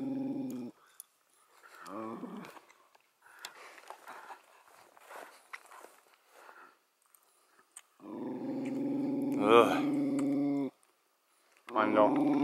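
A dog growls at a porcupine climbing a tree beside a coastal ATV campsite. Low, rough growls come in separate bursts, with a long loud spell near the end and short quiet gaps between.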